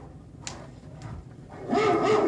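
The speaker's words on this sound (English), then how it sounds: "I hear about 2, maybe 3 different dog barks." Dog barks and whimpers from a sound-effects vinyl record, a few short barks and yips with record surface noise, ending in a louder, dense burst of barking.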